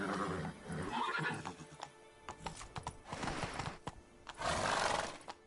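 A horse in The Witcher 3 video game whinnies loudly several times over quick clip-clopping hooves as it gallops, and no voices are heard.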